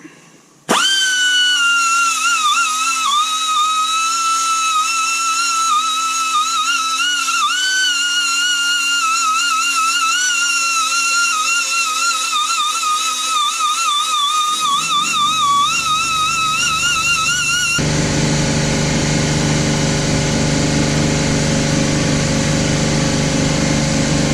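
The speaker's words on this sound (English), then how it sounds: "for the areas that I can't reach, I got a wire wheel and some wire brushes" Wire wheel on a power tool whirring steadily against the pistons of a 2008 Dodge Charger 3.5L engine under rebuild, a loud sustained high-pitched tone that shifts into rougher, coarser grinding near the end.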